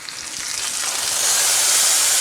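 Steak searing in a cast iron skillet after being flipped, a loud, steady sizzle and frying hiss that swells slightly and holds on without any talk.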